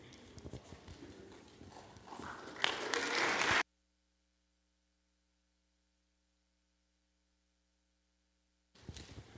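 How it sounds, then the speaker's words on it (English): An audience at a Lawrence School Board forum applauds a moderator as he is introduced, a dense clapping swell that builds and then cuts off abruptly into silence. "I have never gotten clapped for just for reading questions"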